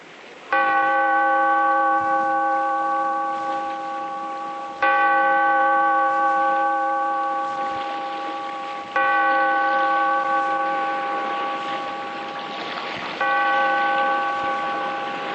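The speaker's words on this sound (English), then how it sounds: "Bellkeeper, toll the bell" Four slow, loud strokes of a deep tolling bell, each ringing out with rich sustained overtones and fading before the next, used as a radio drama sound effect opening a weird-tale anthology broadcast.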